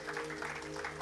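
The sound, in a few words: congregation applauding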